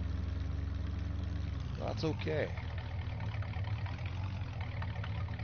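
Tractor engine idling in Farming Simulator 19, a 1980s-era dairy farm setting with a 4840 model tractor; a steady low rumble runs throughout while someone speaks briefly over it.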